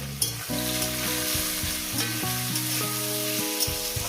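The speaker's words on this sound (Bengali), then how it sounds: "পেঁয়াজটাকে মিনিমাম আমি 2 মিনিট একটু ভেজে নেব।" Onions fry in oil in a pan for chicken curry, a loud, steady crackling sizzle that runs without pause, with a tonal background melody underneath.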